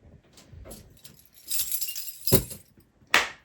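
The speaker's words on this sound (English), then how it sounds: "Jingling keys." A bunch of keys jingles and clinks in several bursts, with a loud shake near the middle and a sharp jangle at the end. The keys are close and heard alone.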